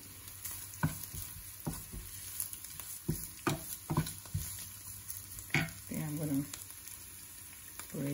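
Salted radish fries in a pan for an omelette, a continuous sizzle broken by repeated scraping stirs and utensil knocks, with a brief murmur of a voice toward the end.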